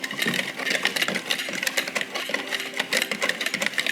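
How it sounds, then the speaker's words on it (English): A whisk rattling quickly and steadily through dry flour, almond flour, cinnamon, salt, allspice, baking soda and baking powder in a mixing bowl, a close, busy scraping clatter that runs without a break. "Let's whisk it."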